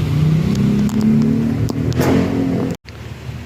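An owner-type jeep with a C240 engine runs close by, holding a steady, throaty mid-range drone with slight revving swells before a brief cutout near the end.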